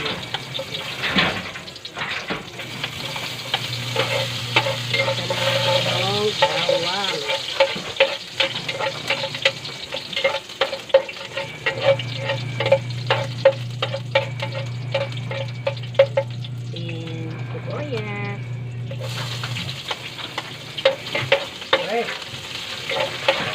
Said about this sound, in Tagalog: nagigisa na tayo ng bawang